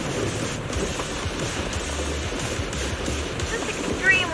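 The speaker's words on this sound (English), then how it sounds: "The wind and rain are picking up." Wind and rain in a video game storm sweep steadily, a dense hiss of rainfall and gusting rumble holding at a constant level, with a faint swell near the end.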